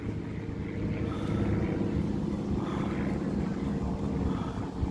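An RC racing boat's motor on a lake, a steady continuous drone with low rumble and wind noise, holding constant without speech.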